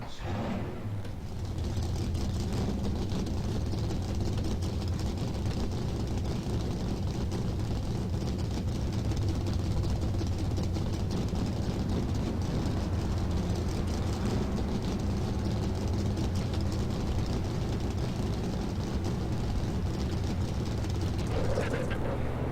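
Race car engines in NASCAR Racing 2003 drone steadily and loudly throughout, a dense low rumble of many cars idling and revving together, with a voice talking over the engine noise.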